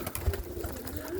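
Roller pigeons coo as a flock comes in to land outdoors, a low, wavering call that runs through most of the short moment alongside a soft thump.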